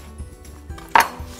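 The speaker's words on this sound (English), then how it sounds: "So you wanna cut this up into just bite-sized pieces." A knife cuts an organic apple into bite-sized pieces on a board: soft low thumps at a steady pace and one sharper, louder chop near the end, close and fairly quiet.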